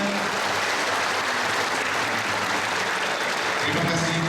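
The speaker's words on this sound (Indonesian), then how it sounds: "Berikan tepuk tangan dulu sekali lagi." Sustained audience applause at an Easter celebration in Long Bemang, a continuous dense wash of clapping at steady volume with a faint hum of voices underneath.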